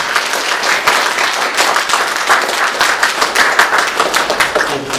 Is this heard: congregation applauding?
yes